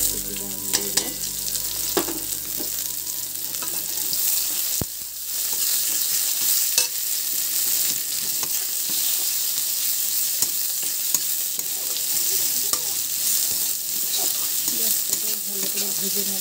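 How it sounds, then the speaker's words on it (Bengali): Chopped onions fry in a pan after garlic, over medium heat for a spicy tangra fish curry, with a steady close sizzle and frequent clinks and scrapes of stirring throughout. "পেঁয়াজটাকে ভালো করে ভেজে নেব।"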